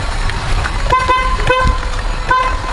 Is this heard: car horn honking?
yes